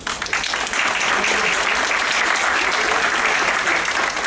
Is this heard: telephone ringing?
no